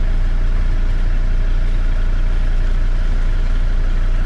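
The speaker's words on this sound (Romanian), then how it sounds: "Oricum, mai merge și motorul." Steady low rumble of a car engine idling in a McDonald's drive-through lane, constant and close throughout with no talk over it.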